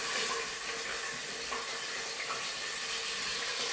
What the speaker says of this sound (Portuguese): Agora eu vou entrar com o nosso carinho aqui, o lombo. Vai fazer um pouquinho de barulho e dá fritura.